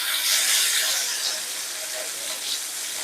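Slices of spiny gourd (kakrol) sizzle in a frying pan as they are turned over, giving a continuous close-up hiss of hot oil with slight swells and no talking.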